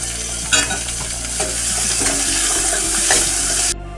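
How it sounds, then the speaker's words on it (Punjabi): Finely chopped onion frying in a pan over garlic and ginger for spinach and chana dal saag, a loud close sizzle with scraping stirs and a few clinks, steady until it stops abruptly, no talk. "ਹੁਣ ਅਸੀਂ ਇਹਦੇ ਵਿੱਚ ਇੱਕ ਪਿਆਜ਼ ਨੂੰ ਇਸ ਤਰ੍ਹਾਂ ਬਰੀਕ ਕੱਟ ਲਿਆ ਉਹ ਪਾ"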